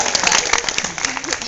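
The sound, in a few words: audience clapping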